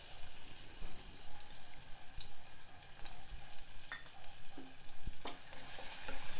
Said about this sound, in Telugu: కొంచెం ఉల్లిపాయలు వేగనివ్వాలి.